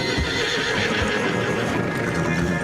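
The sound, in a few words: horse neighing in a video game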